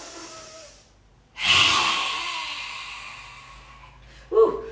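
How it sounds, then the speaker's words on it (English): During an outdoor qi gong session in Ibiza, one long, deep breath is drawn in close to the microphone, a loud airy rush that slowly tapers, ending with a brief voiced exhale sound. "Right, breathe in."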